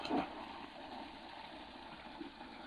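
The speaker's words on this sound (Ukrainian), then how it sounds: "в цьому басейні ось такий шийний масаж, водоспад кобра." Water from a cobra-style waterfall neck massage jet pours steadily into a backyard pool, a continuous near gushing splash with an initial louder burst.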